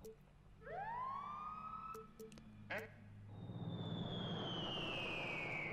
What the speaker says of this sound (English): Fire truck siren.